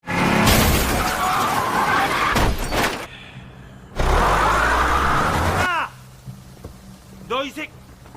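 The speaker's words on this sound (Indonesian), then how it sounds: "tiba-tiba mobilnya ditabrak oleh mobil yang ditumpangi oleh Don Lee" A car in an action film is rammed by another car: a loud crash and screeching skid burst in, cut off, then a second heavy impact roars before fading to quieter rattles and small squeaks.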